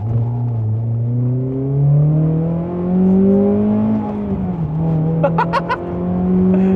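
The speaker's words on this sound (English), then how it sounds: "Downshift. Oh, nice. Oh, The engine braking feels really good." A Honda Accord Euro CL9 engine hums and rises through its revs inside the cabin, then drops sharply with engine braking as the gear changes down, with a brief chirp near the end.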